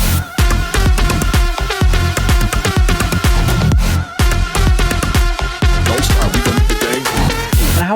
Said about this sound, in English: I actually made it a twisted house track, and it currently sounds like this.